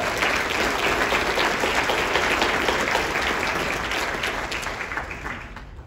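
An audience at the Guelph State of the City 2024 event gives a dense, sustained round of applause that fills the room and tapers slightly toward the end.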